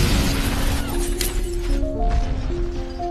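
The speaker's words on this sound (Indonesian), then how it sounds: "ledakan itu memecahkan kaca mobil yang mana serpihannya mengenai mata Sydney." Explosion in a horror thriller film blasting a car window into shattered glass: a loud, dense crash of breaking glass and booming debris sustained over about three seconds, with a sharp burst near the middle and tonal film score underneath.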